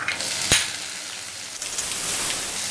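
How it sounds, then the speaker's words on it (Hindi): Tomatoes fry in hot oil for an Odia vegetable dal, giving a continuous bright sizzle with one sharp crackle near the start and a louder hiss surging toward the end, with no voice. "2 मिनट के लिए हम ये टमाटर को भून लेते हैं तेल में"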